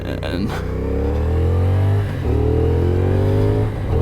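A 2023 CFMOTO 450 SS motorcycle pulls away, its engine loud and close as it rises through two climbing runs of revs with a brief dip at the gear change between them.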